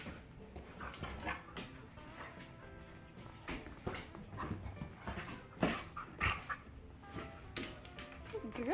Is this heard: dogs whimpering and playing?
yes